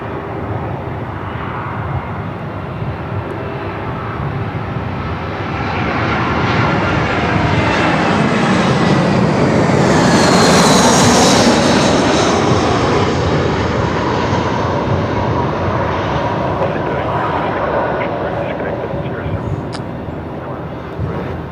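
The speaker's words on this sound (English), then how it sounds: "Jetstar 429 coming in from the Goldie" Jetstar airliner arriving at Melbourne Airport: a loud, broad jet roar builds as it approaches, peaks near the middle as it passes close, then slowly fades, with people talking over it.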